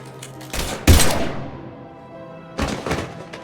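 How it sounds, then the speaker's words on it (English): Gunfire in the video game Mass Effect, with heavy thudding shots and short bursts in two clusters separated by a decaying echo and a brief lull. "Now open fire!"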